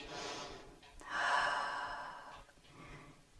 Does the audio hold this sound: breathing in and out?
yes